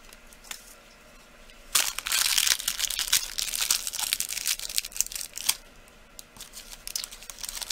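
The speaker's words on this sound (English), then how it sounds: "Sorry about all the crinkling." Plastic packaging of polymer clay jewelry supplies crinkles and crackles close up as it is handled, a burst of loud rustling followed by scattered smaller crinkles and clicks.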